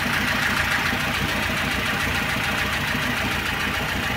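A car engine idling as it warms up, with a suspected camshaft knock and an oil pressure light that flickers when hot. It runs as a steady, close, continuous rumble with a fine rapid patter throughout and no voices.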